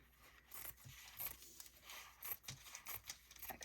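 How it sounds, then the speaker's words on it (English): Quiet snips and crisp rustles of scissors cutting through paper, several short cuts in quick succession, close and faint. "I'm just going to trim a little bit off of this end, like this"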